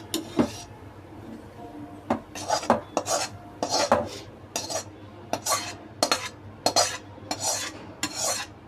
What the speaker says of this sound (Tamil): இதை போட்டுட்டு இதை நல்லா கலக்கி விட்டுருங்க